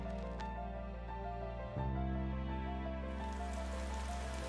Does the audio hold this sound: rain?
yes